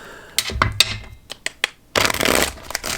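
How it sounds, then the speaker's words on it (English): Tarot cards are shuffled by hand in quick, crisp bursts, with separate riffling snaps followed by a longer dense shuffle close up, and no talking. "So we're doing 3 shuffles."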